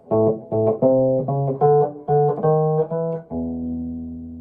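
Blues guitar walk-up to the turnaround, picked on the 5th and 4th strings: a rhythmic run of short plucked two-note figures stepping upward, ending on a sustained ringing low chord, played alone and close.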